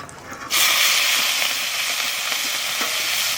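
Dried red chillies, cumin, ginger and green chillies hit hot oil in a village kitchen, bursting into a loud, steady frying sizzle with a broad hiss that holds evenly to the end.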